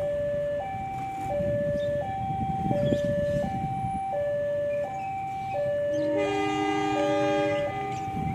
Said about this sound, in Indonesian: kereta api Idoh berangkat dari stasiun Mojokerto